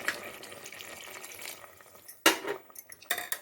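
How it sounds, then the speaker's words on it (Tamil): Water poured into a pressure cooker pot while cooking a tomato dish at home, a steady rushing splash followed by a few sharp metallic clanks of the pot, close by with no talking. "இப்போ இதில் வந்து கொஞ்சம் தண்ணி ஊற்றிக்கலாம்"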